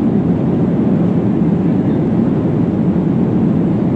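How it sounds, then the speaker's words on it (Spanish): A Viva Aerobus passenger jet rolls and takes off, heard from inside the cabin as a loud, steady, unbroken roar of engines and airflow. "Vamos despegando."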